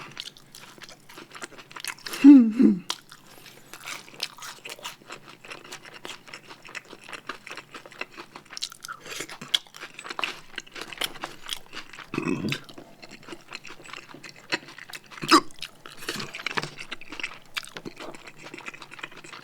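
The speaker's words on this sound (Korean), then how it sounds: "이거 양상추 이런 것도 되게 아삭아삭했고 이거 같이 볶아지는 양파도 아삭아삭하고" Someone eating a premium Korean lunch box, biting into crisp lettuce and stir-fried onion. Sparse, close crunches and chewing sounds come in bursts against a quiet background.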